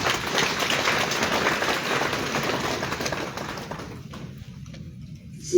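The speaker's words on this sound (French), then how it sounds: "Est-ce qu'on peut les applaudir, s'il vous plaît?" An audience at an installation ceremony for a first cohort of energy managers claps in a dense, steady patter of many hands that thins out and fades near the end, with no voices over it.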